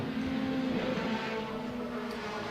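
A Chevrolet Celta race car engine drones steadily at high revs during a Brazilian 1600 championship race at Curitiba, a loud continuous tone with a slight pitch shift, no talking over it.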